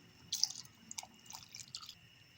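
Water poured into a pot of cabbage soup with sprats while it is stirred, heard as a few soft drips and wet squishing splashes spread over a couple of seconds, faint and close.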